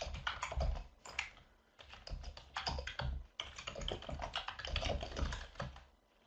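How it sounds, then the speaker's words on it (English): Rapid typing on a computer keyboard, bursts of close, crisp key clicks in uneven runs with brief pauses, no voice over it. "I promise I can type, guys."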